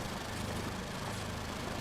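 A World War II armored car engine in the game Gates of Hell idles throughout with a steady, buzzing, lawnmower-like drone, a constant rumble with no breaks, close and even in level.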